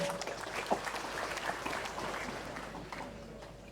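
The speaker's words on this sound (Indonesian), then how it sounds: "tepuk tangan untuk Pak Gubernur" Crowd applause for a governor at a national agricultural extension workers' jamboree in Central Sulawesi, a moderate steady clapping from a large gathering with a faint voice mixed in.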